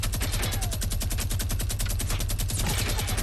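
Sustained rapid-fire minigun bursts in Fortnite Battle Royale, a dense continuous rattle of shots that stays loud and steady for the full stretch with no talking over it.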